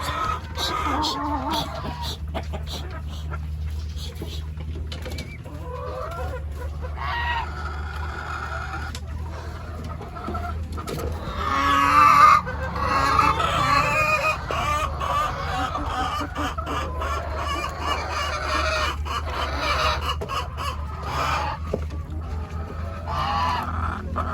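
A crowd of chickens at a backyard poultry farm, clucking and squawking continuously over a steady low hum, with one louder flurry of calls partway through.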